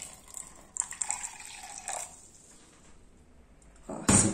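About 50 ml of hot water is poured into a bread dough mixture, heard as a short liquid splash and trickle with a few clinks, followed by a quiet pause and a sharp sound at the end.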